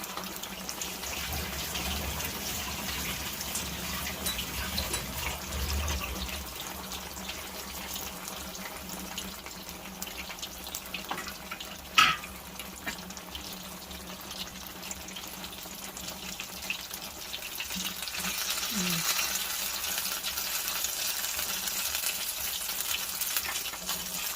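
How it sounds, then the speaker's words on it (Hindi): Chicken pieces for a zinger burger frying gently in oil over a low flame, a soft, steady close sizzle with a short sharp clink midway and a slightly brighter hiss toward the end. "अब देखते हैं इसको हल्की आंच पे पका रहे हैं"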